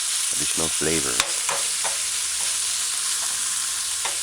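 Stew ingredients with scallion sauté in a pan, giving a steady close sizzle broken by a few scraping stirs early on, with no one speaking.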